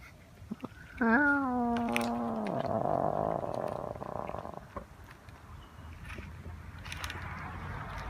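Small cats outdoors in a yard, with a loud drawn-out meow or yowl near the start fading into a long purring, rumbling murmur, then quieter background.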